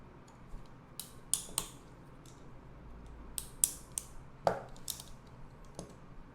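A Mantiz foldable laptop stand being folded up, giving a run of sharp metallic clicks and clacks at uneven intervals, close and fairly loud, with no talking.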